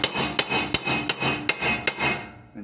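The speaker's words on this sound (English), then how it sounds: "and you hammer them in there" A hammer strikes a chisel seven times in an even rhythm, each blow ringing with metallic sustain, driving wheel studs into the holes of a Talon 8-inch portal spacer. The ringing fades out at the end.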